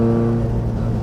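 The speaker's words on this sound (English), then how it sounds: "That was 4th gear upshift" Nissan S13 drift car with a Samsonas sequential gearbox during a fourth-gear upshift, its engine note a loud, steady droning hum with strong low harmonics, held close and without a break for about a second.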